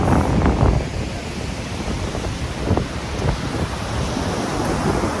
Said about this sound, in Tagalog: Yan guys, panoorin nyo ang waves. Napakalakas.